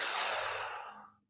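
A person draws a single sharp, breathy inhale during a strength exercise, close and fairly quiet, tapering off to silence.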